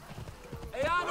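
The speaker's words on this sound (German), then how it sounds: "wir holen uns unser Pferdchen" Horse hoofbeats in the Assassin's Creed Origins video game, soft clip-clop steps building toward a gallop, with a brief whinny-like tonal sound near the end over light background noise.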